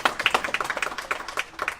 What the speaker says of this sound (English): with a big round of applause?